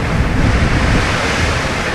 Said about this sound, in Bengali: ঢেউয়ের আওয়াজ বেশি